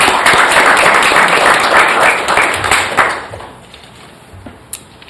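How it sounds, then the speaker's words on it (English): Audience at a school board meeting gives a round of applause: a loud, dense wash of clapping that gradually thins and fades away, leaving a few scattered claps and a steady high hum. "If we could give a round of applause."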